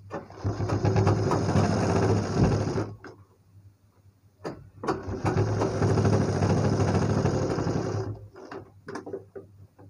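Sewing machine stitching a triangle-pattern blouse, running in two long bursts of rapid, even whirring separated by a short pause, with a couple of brief starts at the end.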